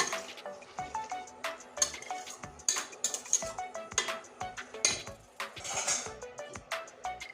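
Potatoes sautéed with spices in a pan, a quick series of metal spatula clanks and scrapes against the pan in an uneven rhythm over a faint sizzle, close and alone.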